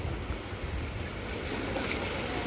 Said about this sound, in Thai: นี่ครับน้ำไหลเชี่ยว